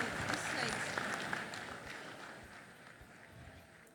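Audience applause during the opening ceremony of the International Conference on Family Planning in a large hall: a steady, fairly faint patter of many hands that slowly fades over four seconds.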